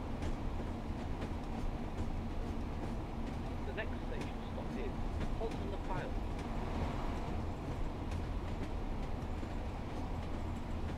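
A Class 142 Pacer diesel railbus runs over jointed, non-welded track in Train Sim World 4, with a steady rolling rumble and faint rhythmic clicks from the rail joints beneath low talk.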